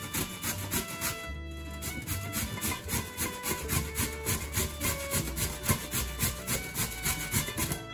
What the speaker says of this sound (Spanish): Ahora seguimos rallando la zanahoria. La vamos a rallar así por esta parte más fina.